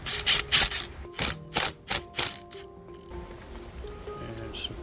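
Valve cover bolts on a 2005 Yamaha Wolverine 350 ATV engine loosened with a 3/16 adapter bit on a ratchet, giving a run of quick close clicking ratchet strokes followed by quieter metallic fiddling.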